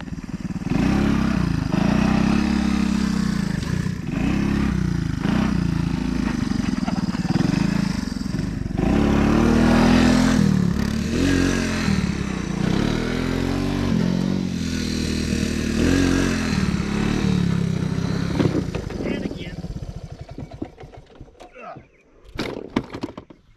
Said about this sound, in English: let's do some wheelies from the outside over here.